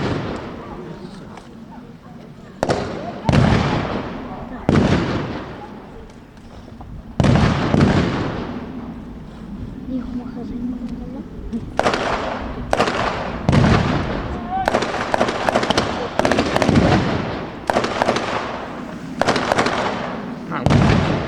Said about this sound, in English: the German forces, see, giving fire to the commandos there